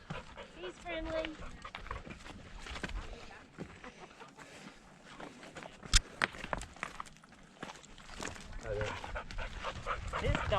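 A dog pants and moves about nearby, with scattered footsteps and brief sharp sounds, while people talk over it at low level.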